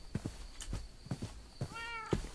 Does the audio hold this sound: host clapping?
no